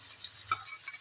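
Tomato, chicken and potato paste sautéing in a pan with ginger-garlic paste, turmeric and salt, giving a soft steady sizzle with one brief stir scrape in the middle, close and alone.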